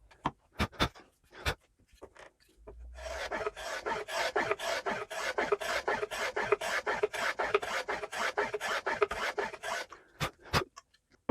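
Reclaimed wood trimmed to an angle for a motorcycle stand, with a fast steady rasping stroke like hand sawing or filing for several seconds, framed by a few sharp knocks before and after, close and alone.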